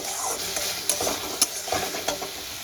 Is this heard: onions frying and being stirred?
yes